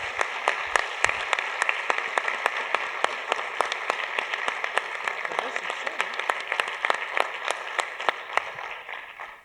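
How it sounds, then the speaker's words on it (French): Steady audience applause at the closing of a notaries' conference, many hands clapping in a dense, even patter that runs on for several seconds before tapering off at the end. "On peut l'applaudir."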